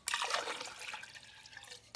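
Two cups of water poured into a blender for stuffed-pepper sauce, a short close splashing pour that tapers to a trickle.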